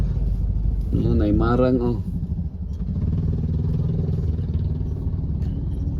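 Road traffic with a rumbling motorcycle or car engine passing nearby and a steady engine drone, while a person talks over it at the start.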